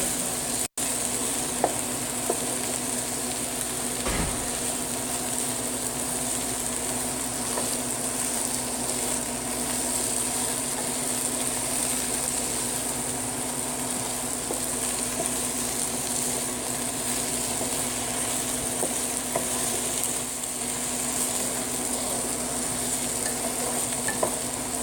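Potatoes, ladyfingers and onions being stirred in a pan for an Indian dish, a steady sizzle with a faint hum underneath and occasional soft scrapes and knocks over about twenty-five seconds, no one speaking.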